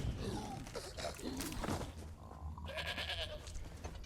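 A goat bleats repeatedly in Elder Scrolls Online, wavering cries over a steady game ambience with a few soft thumps.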